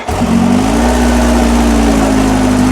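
A Kawasaki H2 SX SE motorcycle engine catches after a brief crank, then settles into a loud, steady idle hum up close that holds evenly to the end.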